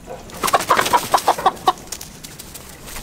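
Chickens cluck nearby in a quick series of short, clipped calls, which then fade into quiet rustling.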